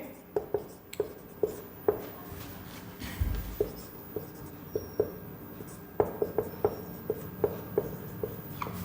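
A maths function on integration by substitution being written out by hand, with a series of sharp pen or chalk taps and strokes in uneven rhythm, clear and close, with faint background noise.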